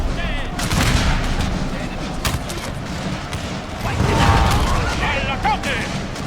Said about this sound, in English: Here the guns firing.